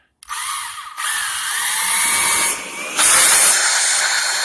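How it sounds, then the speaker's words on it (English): A power drill whirs loudly in close bursts, spinning up, briefly pausing, then biting in again with a harsh high-pitched grinding whine. "drill a hole."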